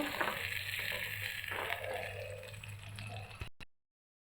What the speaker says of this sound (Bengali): পেঁয়াজটাকে ভালো করে ভেজে নেব।